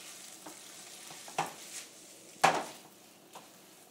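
Shrimp and asparagus pasta sautéing in olive oil, a soft steady sizzle broken by a few sharp stirring clanks of a utensil against the pan, close and without talk.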